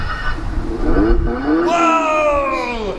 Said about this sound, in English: I make a loud sound too, my Lamborghini.